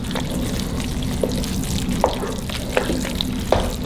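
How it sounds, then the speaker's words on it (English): Shrimp creole ingredients fry in a pan with a steady, close sizzle, broken by a few sharp pops and crackles. No one talks over it. "So we're just frying everything up."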